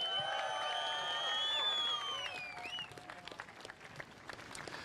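A beach crowd at a professional surf contest in Newcastle, the World Surf League's Surfest finals, claps and cheers loudly. Whistles and shouts rise over the applause, which then thins into scattered clapping.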